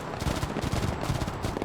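Gunfire from units in the Broken Arrow video game, a rapid rattling burst of many shots in quick succession at moderate distance.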